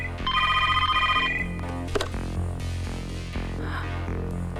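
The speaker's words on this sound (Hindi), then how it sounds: "फोन उठाओ।" A telephone rings with a loud, close electronic trilling bell over a low steady hum, followed by a click and a quieter stretch of room tone, with no speech.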